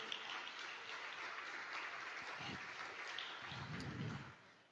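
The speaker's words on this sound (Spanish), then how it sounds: "Denle un gran aplauso al Señor." A church congregation claps together during a Spanish-language worship service, a steady wash of applause lasting several seconds, heard at a moderate distance before it tapers off.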